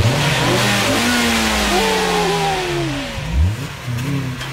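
An Acura TSX with newly installed coilovers revs its engine up and down, a loud, close mid-pitched roar with rising and falling sweeps and a brief drop before climbing again, with no one talking.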